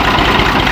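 A tractor engine idles up close, a steady low rumble with no talk over it.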